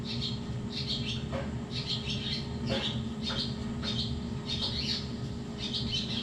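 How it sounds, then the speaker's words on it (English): Loud, repeated bird squawks and chirps ring out in bursts over a steady hum of white noise, with no talking. "And the birds are louder than this."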